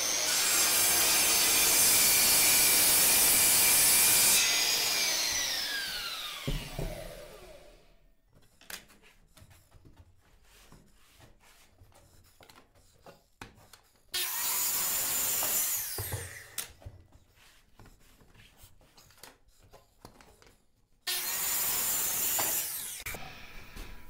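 Power saw cutting across the ends of widened wooden planks for a tongue-and-groove cabin ceiling, three loud cuts each with a high whine that winds down, separated by quieter handling and shuffling noises.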